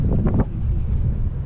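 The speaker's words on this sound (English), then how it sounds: "Got a little windy now all of a sudden" Gusts of wind buffeting a microphone outdoors at Susquehanna Riverlands State Park, a loud low rumbling roar that surges at the start and then keeps up a steady blustery boom.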